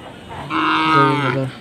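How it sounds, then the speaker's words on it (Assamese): A cow moos once, a loud, close, drawn-out low call lasting about a second, at a busy cattle market in Banglagor, Darrang, Assam. "এইয়া গৰুৰ বজাৰ"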